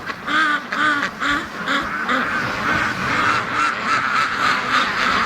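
Free-range ducks quack in a rapid run of repeated, nasal calls, fairly close and loud, with several birds overlapping in a steady chatter that never pauses.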